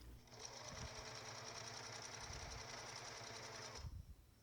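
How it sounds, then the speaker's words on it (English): A sewing machine runs steadily for about three and a half seconds, stitching down the edges of a fabric strip for a camper van cushion cover, with a continuous whirring buzz that starts and stops cleanly and no talk over it. "I'm just going to sew down the edges of this strip so it stays tidy"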